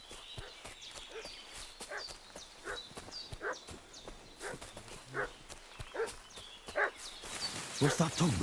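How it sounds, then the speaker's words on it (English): A dog barks repeatedly at a middle distance in Kingdom Come: Deliverance II, sharp yaps scattered over a soft ambient bed with hoof-like clopping, the barks building toward the end. "What's that dog making such a fuss about?"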